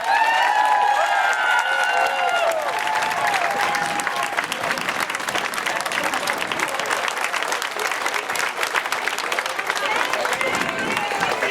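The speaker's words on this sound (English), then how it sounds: "Please, give him a round of applause." Crowd applause at an outdoor protest against mandatory flu shots in Boston, Massachusetts: sustained, dense clapping with cheers and shouted voices, loud and continuous for over ten seconds.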